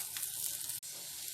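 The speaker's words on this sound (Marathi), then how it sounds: "तर आपण 3-4 मिनिटं परतून घ्यायचं चांगलं" Okra (bhendi) sautéing in hot oil in a kadhai, giving a steady close sizzle with light crackles and a brief stir break partway through.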